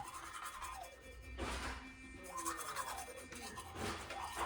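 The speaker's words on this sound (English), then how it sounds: "you need to make sure you brush your teeth the right way" A Philips electric toothbrush buzzes steadily as teeth are brushed, with the tone shifting slightly as the brush moves around the mouth, close and fairly quiet.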